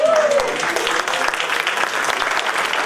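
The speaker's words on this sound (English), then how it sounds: "we can give them a round of applause" An audience applauds the class of 2019 at a women's recognition event, a steady, full round of clapping from start to finish, opening with a brief high tone.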